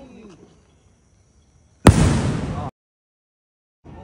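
A single firecracker bursts on Diwali night: one sharp, loud bang with a rushing decay lasting under a second, surrounded by near silence.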